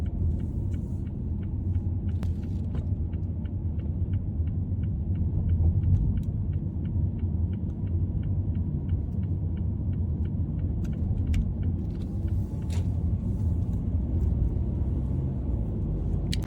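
A car cruises along a freeway, heard from inside as a steady low road rumble and engine drone, with faint regular ticking and a few light clicks and rattles over it.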